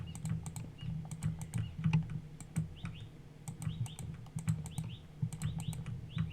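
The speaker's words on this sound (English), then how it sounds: "This bird is very loud." A bird outside chirps in short, repeated bursts over the close, continuous clatter of a computer keyboard being typed on.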